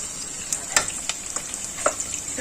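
Chili fritters frying lightly in hot oil give a steady close sizzle, with a few sharp clinks and scrapes from a utensil in the pan.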